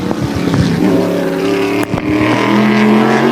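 A modified race car runs a qualifying session at Wall Stadium in a turkey derby weekend, its loud engine droning and shifting pitch as it laps close by, with a brief dip midway.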